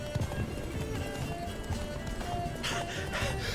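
Hooves of the horse Roach clip-clopping at a run in a video game, a quick rhythmic beat under game music and ambient sound, faint and mixed low.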